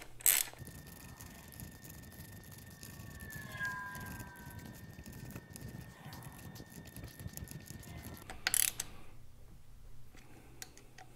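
Ratchet hand-tightening bolts in a garage, a few close, brief clicking and ticking bursts over quiet room noise, with a faint high whine in the middle and no talk.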